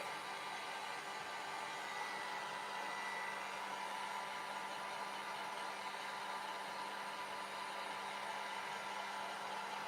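A hair dryer runs continuously at a distance to dry one damp area of fabric on a homemade Christmas tea towel, an even, unbroken hum and rush of air with no speech.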